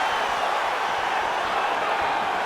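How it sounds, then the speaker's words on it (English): Steady broadband crowd roar fills a fight event arena, a continuous wash of many voices at moderate level with no clear peaks. "you hear the crowd react every time they come together"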